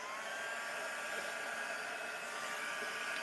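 A hair dryer blows steadily on a mixed media artwork, a continuous close airy whir with a faint whine, holding level and unbroken throughout.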